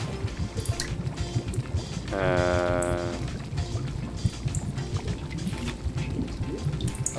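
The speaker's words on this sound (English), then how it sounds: "I put the water in the teacup." Water being poured into a teacup in the cozy video game Wanderstop, a rising liquid pour lasting about a second amid soft game sounds and background music, with a brief spoken word nearby.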